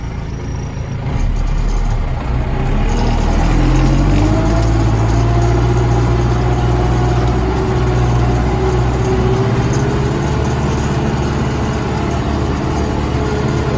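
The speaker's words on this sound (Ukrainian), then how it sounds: "Він то не дуже вроді важко йде трактор" A heavy tractor engine runs steadily and loudly while ploughing, a continuous low rumbling drone with slight shifts in pitch.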